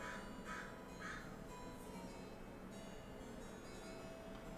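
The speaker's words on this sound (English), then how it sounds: "now there's a blower and a crow" A crow caws three times in quick succession outdoors, faint and somewhat distant, over a steady background hiss like a leaf blower running.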